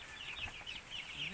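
Pet chickens cluck softly in a quick, faint series, fairly distant and low in level, with no voices standing out.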